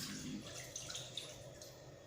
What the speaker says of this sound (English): I will add more water to it.